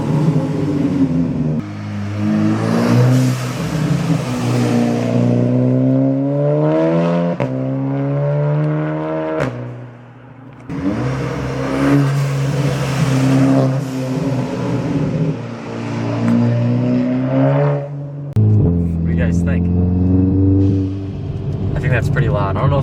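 Modified Volkswagen MK7 Golf R engine revving loudly, repeated rising and falling revs with a throaty roar, close to the car, with brief pauses between revs.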